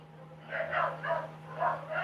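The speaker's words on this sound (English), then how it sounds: "Ellen, I think you need to go and sort the dogs out" Dogs bark and yip repeatedly from another room, muffled and fairly faint, in a quick irregular series over a low steady indoor hum.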